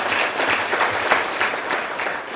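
An audience breaks into loud, sustained applause at an education event, a dense, even patter of clapping hands throughout.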